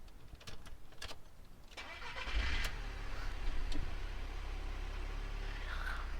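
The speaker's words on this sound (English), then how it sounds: "So we're going to start this car up" A VW Kombi van engine cranks with brief bursts, then catches and settles into a low, rough idle, heard close and fairly quiet with no talking.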